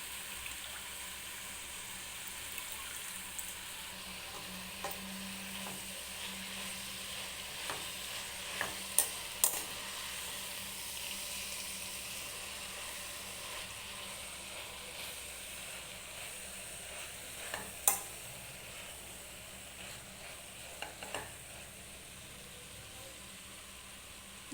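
Gongura leaves for spicy gongura chicken sizzle steadily in a pan while being stirred, a low continuous frying hiss with occasional scraping clinks from the spoon, fairly quiet throughout.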